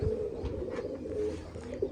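A pigeon coos in a soft, low, rolling call, close and alone, lasting the whole brief moment.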